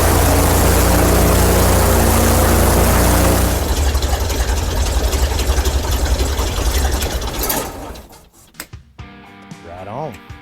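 Propeller aircraft engine run up to 2,000 RPM after a propeller installation: a loud, steady roar with strong low harmonics holds for several seconds, then drops sharply as the engine is throttled back, leaving quieter rumbles with people talking nearby.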